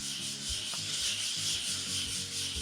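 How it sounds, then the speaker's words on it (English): Steady rhythmic rubbing of a sanding pad over eggshell-finish paint on an early Ford Bronco, close up, with repeated back-and-forth strokes and no talking. "it feels like the whole sanding pad is gripping the paint"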